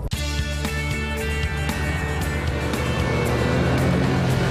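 A Porsche 911 SC drifting on snow in Sweden, the engine note rising and falling with throttle pulses, loud and close, with a steady harmonic drone and no talk.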